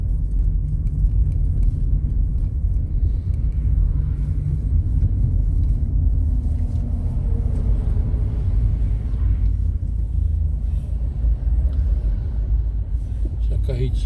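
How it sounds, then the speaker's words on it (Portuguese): A car travels a highway in Goiás, Brazil, on the BR-080 and BR-153 stretch between Barro Alto and Uruaçu: a loud, steady low road rumble from inside the car, unbroken throughout. "É bom demais viajar de carro."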